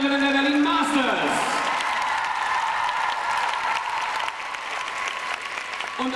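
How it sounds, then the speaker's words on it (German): Thunderous applause from a crowd greets the participants of the Berlin Masters, starting with a voice over it and rolling on as dense, sustained clapping that eases slightly toward the end. "jetzt nochmal einen donnernden Applaus"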